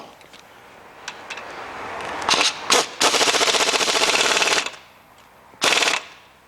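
Pneumatic impact wrench working a drive shaft bolt on a Ford Mondeo, in a home garage: a few short rattling bursts, then a long hammering buzz of about a second and a half, and one more short burst, loud and close.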